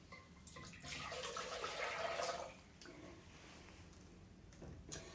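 A short stream of milk pouring into a pan for a couple of seconds, close and fairly quiet, followed by faint handling clatter.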